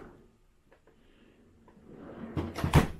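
A large household fridge drawer sliding open, quiet rustling building to a couple of sharp close knocks and a thud near the end.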